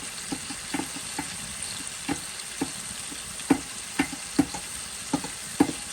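Beans and onion flowers fry in a pan, a low steady sizzle punctuated by a regular series of sharp spatula scrapes and taps against the pan.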